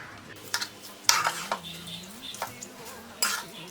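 A ladle clinks and scrapes in a pan as pineapple pachadi is stirred after its tempering goes in, with a few sharp metallic taps over a faint background hiss.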